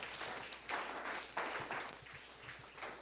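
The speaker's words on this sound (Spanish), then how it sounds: "dale un aplauso a Jesús" A church congregation at a Sunday service applauds in a sustained wash of clapping, fairly faint and distant, swelling in several waves.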